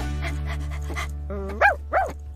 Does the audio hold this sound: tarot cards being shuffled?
no